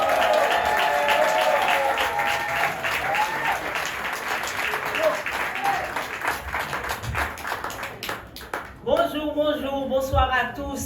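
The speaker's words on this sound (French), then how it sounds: "Je vous demande d'applaudir Marie-Eugène Trobo-Tommaso." Audience applause fills a political campaign list presentation in Pointe-à-Pitre, dense sustained clapping from a crowd that thins slightly near the end as a voice begins to speak over it.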